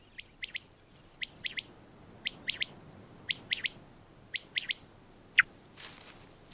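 Sharp, high chirping bird calls repeat in short clusters against quiet background, a thrush singing at dusk with brief phrases spaced a second or so apart.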